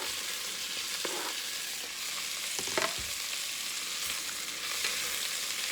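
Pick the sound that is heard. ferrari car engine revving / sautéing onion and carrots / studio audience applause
sautéing onion and carrots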